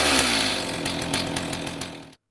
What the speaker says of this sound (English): Finally, the chainsaw cut.